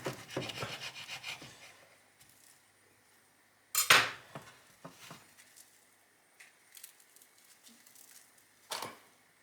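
A knife cuts through a homemade sandwich, close up: a few scattered rasping, scraping strokes with one sharp crunchy burst near the middle and a last short rasp at the end, quiet pauses between.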